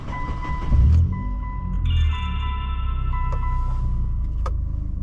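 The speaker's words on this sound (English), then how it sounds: "we're gonna turn the car on now" A 2002 Mitsubishi Lancer engine cranking and catching, with a brief surge as it fires, then settling into a steady low idle with faint high whines and a few clicks.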